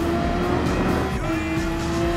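A race car in Gran Turismo Sport holds a steady engine drone down a straight, a constant tonal whine with a slight pitch shift midway, loud and continuous throughout.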